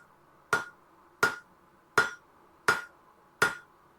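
Hand forging with a hammer while making tongs: five sharp metallic strikes at an even pace about every three-quarters of a second, each with a short ringing tail, close and clear in a quiet room.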